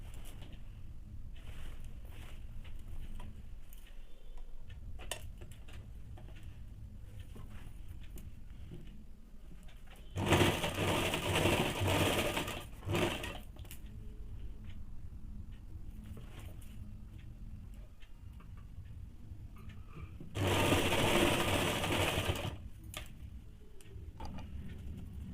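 A sewing machine runs double stitching along the seam of men's underwear in two loud, steady bursts of rapid whirring, separated by quieter stretches of faint ticking and handling.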